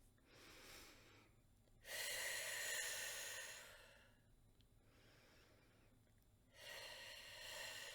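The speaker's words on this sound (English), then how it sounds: "3 deep breaths in and out" Slow, deep breaths in and out, each long inhale and exhale clearly audible and close, in a quiet room with no talking.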